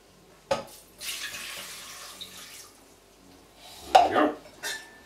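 Water poured from a jug into a cooking pan holding fennel seeds for red pepper soup, a splashing pour in two bursts with a clink of pan or lid, close and fairly quiet, no speech.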